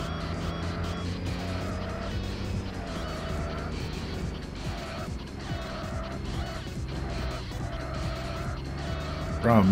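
A race car in the Tokyo Xtreme Racer: Zero video game drones along with a steady, loud engine note. Intermittent tire squeal rises and fades over the engine, which stays continuous for the whole stretch, with no talking.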